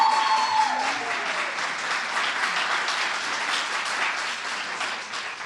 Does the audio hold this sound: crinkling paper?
no